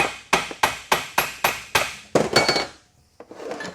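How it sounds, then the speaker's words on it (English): Hammer blows ring out in a workshop during a transfer case rebuild with billet parts: seven sharp, evenly spaced metallic strikes, loud and close, then a brief pause and a few lighter knocks and clatter. "Just don't talk while you're hammering"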